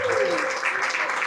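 Applause from a church congregation during a Portuguese-language family worship service, a brief spread of clapping with a voice speaking over it.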